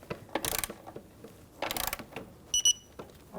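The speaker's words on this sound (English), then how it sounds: "I'm going to just really snug them up before I torque them in a crisscross pattern." A 10mm socket ratchet snugging the throttle body bolts on a 1997-2006 Jeep Wrangler 2.4L four-cylinder, heard as two quick bursts of close, rapid clicking followed by a couple of brief metallic ticks, with no talking.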